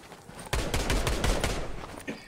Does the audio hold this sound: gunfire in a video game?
yes